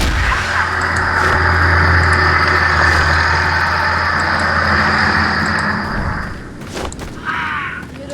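A tractor engine in a village runs with a loud, low, steady idling rumble for about six seconds, then drops away, leaving a few brief knocks and clatters.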